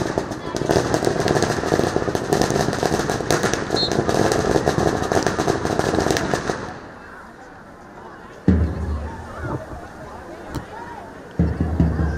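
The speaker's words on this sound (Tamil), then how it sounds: "படபடக்கும் பட்டாசு ஒளியுடன் இவ்விளையாட்டு விழா இனிதே தொடங்குகின்றது." Firecrackers crackle densely and continuously for about seven seconds at the opening of a school sports day in Rajapalayam. The crackling then cuts off abruptly, leaving quieter crowd noise and a few thumps and voices.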